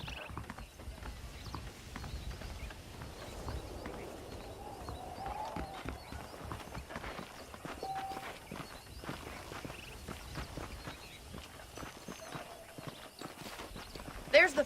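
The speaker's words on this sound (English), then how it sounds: "The horses are saddled up over here." In the video game Red Dead Redemption, saddled horses clip-clop along at a walk, with steady hoofbeats, occasional whinnies and faint background sounds, under and between stretches of talking.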